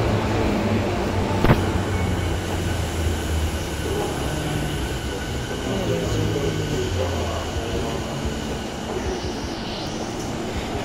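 A train rumbles through a station in Japan with a steady, heavy drone, a brief sharp clank and occasional wheel squeal, alongside faint voices.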